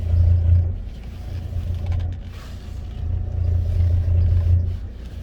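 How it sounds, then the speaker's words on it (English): Steering noise from a van on the move, heard as a low droning rumble that swells and fades in waves over a few seconds, loud and close inside the cab with no talk. "Steering noise is back."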